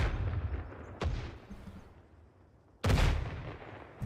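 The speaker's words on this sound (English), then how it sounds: "that explosion was just behind you" Explosions in the military video game Arma 3, two sharp booming blasts about two seconds apart, the second louder and with a longer rumbling tail.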